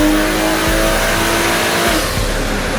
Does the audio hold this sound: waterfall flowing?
no